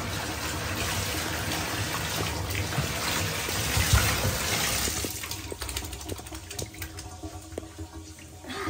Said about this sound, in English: Tito getting his rinse off.